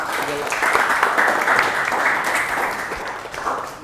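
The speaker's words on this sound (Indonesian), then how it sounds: "Beri aplaus untuk kedua temennya." Classroom applause for two classmates after a presentation, a steady dense clatter of many hands clapping close by that fills the whole few seconds.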